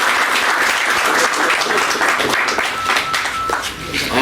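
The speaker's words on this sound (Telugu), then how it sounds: "మనందరం రన్నర్స్కి, విన్నర్స్కి గట్టిగా చప్పట్లు కొట్టాలని" Loud, dense applause from a crowd greets the winning and runner-up teams at a sports competition. The clapping is continuous and close, with voices mixed into the ovation.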